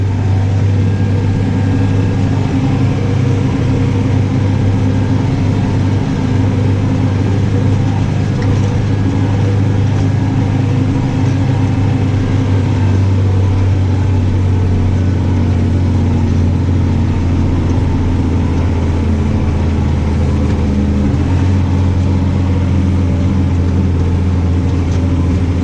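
Tractor engine working hard under a load of winter muck on a long uphill pull, a loud, steady, low drone held for the whole stretch with a slight change in pitch near the end, no talk over it.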